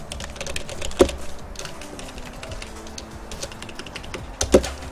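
Quick keystrokes on a computer keyboard enter AutoCAD commands, with a steady patter of light clicks and two louder key strikes, the first early and the second near the end, close with no talk.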